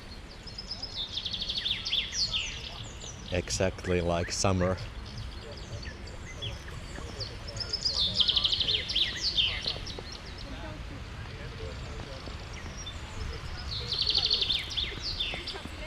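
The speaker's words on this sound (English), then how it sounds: "can you hear the birds?" Birds chirp and trill in bursts of high, bright song during a snowstorm in Helsinki, with a person speaking briefly nearby over a soft outdoor background.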